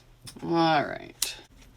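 Scissors trim the fabric edge of a handmade sling bag, with a single crisp close snip standing out after a brief voice-like sound.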